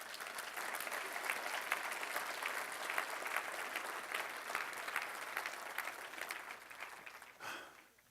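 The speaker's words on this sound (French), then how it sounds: "Est-ce qu'on peut juste donner une main d'acclamation à Jésus?" A church congregation applauds with dense, even clapping for several seconds, then tapers off near the end.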